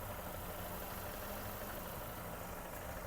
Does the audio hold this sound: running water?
no